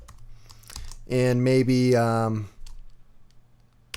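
Quick keyboard taps while typing a word into After Effects, faint clicks scattered around a short stretch of a voice, with louder talk in the middle.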